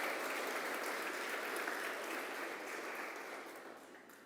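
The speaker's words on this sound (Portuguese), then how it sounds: "Pode aplaudir o Senhor." A church congregation applauds together, a dense, even wash of clapping that gradually fades over a few seconds.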